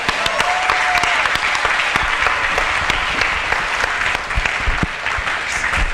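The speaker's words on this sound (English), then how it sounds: "let's give him a round of applause." Sustained applause from a live audience for a panel at a talk on plant-based living, dense and steady throughout with many overlapping hand claps filling the room.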